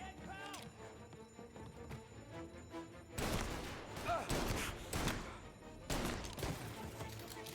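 Gunfire bursts in a video game mafia shootout, loud dense volleys arriving in clusters partway through, with background game noise and voices around them.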